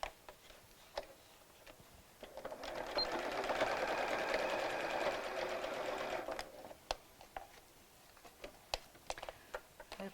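A sewing machine runs in one steady burst of several seconds, stitching the side seams of a small doll dress up to the Velcro, preceded and followed by quieter clicks and handling.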